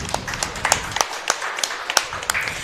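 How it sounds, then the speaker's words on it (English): Scattered clapping from a small studio group during a university sports coach's show, a handful of sharp, uneven claps spread across a few seconds at moderate volume. "That deserves another round of applause."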